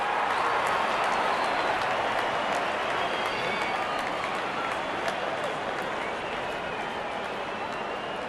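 A stadium crowd in a cricket video game claps and cheers in a steady, dense wash of applause that holds for several seconds without a break.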